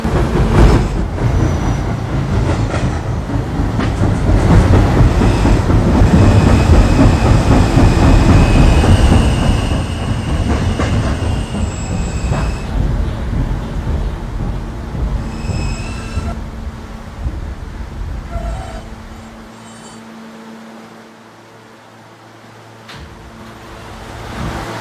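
A K subway train running in Roblox, an R160A heading from Halson Terminal toward Rentar Plaza via the B line: a loud, steady rumble of wheels on rails with rhythmic clacks and squeals that eases toward the end as the train slows.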